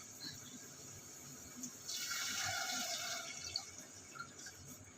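Water runs steadily into a container for a few seconds, a soft continuous pour that swells in the middle and then tapers, with faint clinks around it.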